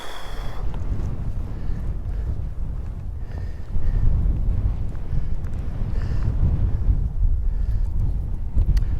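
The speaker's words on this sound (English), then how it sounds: "And a nice breeze blowing through." Breeze blowing across open Bewcastle fells, a steady low rushing buffet against the microphone that gusts stronger partway through, with no voices.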